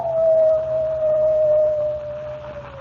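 A coyote howl as a radio drama sound effect: one long, sustained wavering tone that slowly glides downward over a low steady hum, loud and alone with no speech.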